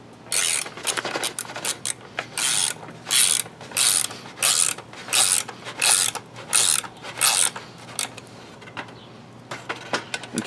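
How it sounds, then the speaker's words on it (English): A wrench ratchets a bolt tight into a wooden 2x4 steel target stand, about a dozen loud, close bursts of rapid clicking in a steady rhythm that slow and shorten toward the end. "So I'm going to go ahead and tighten this bolt up"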